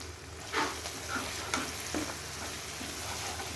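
Chicken gizzard and liver fry in a pan with salt, a soft steady sizzle with a few distinct scraping stirs of a spatula, fairly quiet and close with no talking.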